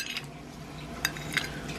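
Two light metallic clinks of a little spoon against a dish of chicken pot pie, a moment apart, over a faint steady background hum.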